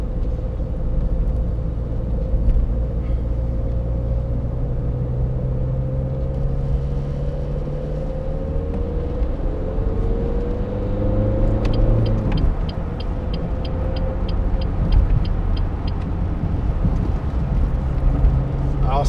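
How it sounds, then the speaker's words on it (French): A 2006 Renault Megane dCi 85 diesel accelerates from 50 to 100 km/h, its engine drone rising steadily in pitch, dropping at a gear change, then climbing again under constant road and cabin rumble. "on va pouvoir procéder au test habituel d'accélération à partir de 50 km/h jusqu'à 100"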